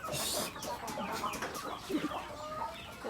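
Chickens and young chicks cluck and cheep on a farm, a busy, continuous flock sound heard up close with scattered rustling.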